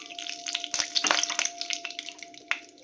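Cashews fry in melted ghee for carrot halwa, crackling and spattering close up in quick irregular bursts, with a faint steady hum underneath.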